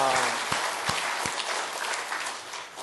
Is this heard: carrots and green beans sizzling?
no